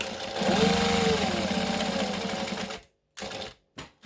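Stitching and backstitching a band and pocket, a sewing machine hums in a close, steady run that slows, then gives a few short separate bursts after a pause.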